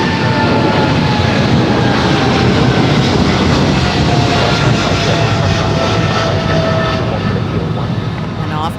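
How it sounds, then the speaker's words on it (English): A ten-year-old Korean Air Cargo Boeing 777 freighter takes off at Los Angeles International Airport, its jet engines roaring loud, broad and steady throughout, with a faint rising whine beneath the thunder. "And off goes Korean Air Cargo 224 to Tokyo Narita."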